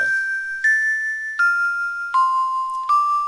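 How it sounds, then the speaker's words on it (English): A doorbell in the adventure game Quest for Glory 4 sounds four clear, evenly spaced chime tones, each a little lower in pitch, ringing cleanly against silence. "Dr. Cranium has a self-answering doorbell."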